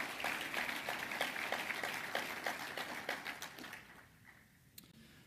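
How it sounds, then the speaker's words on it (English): Audience applause for awardees at an Association of the United States Army briefing, a steady crowd of hands clapping in a hall, moderately loud, then tapering off into quiet room tone. "let's give one more round of applause for our awardees"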